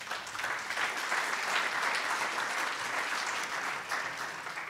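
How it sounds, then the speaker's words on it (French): Steady applause from the audience at a French symposium on mediation, as the police national mediator is called up, a dense sustained clapping that holds at an even level throughout with no talk over it. "On peut l'applaudir"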